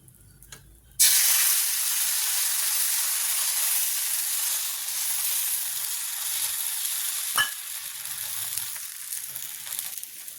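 Oil sizzles loudly on a plain hot griddle as dosa batter hits it, a steady bright frying hiss that starts abruptly and continues throughout, with a brief scrape.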